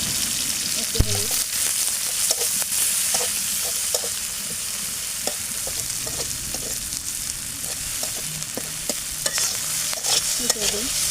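Food fries with a steady, close sizzle in oil in a pan as turmeric is stirred in, with scattered scraping clinks of the spoon against the metal.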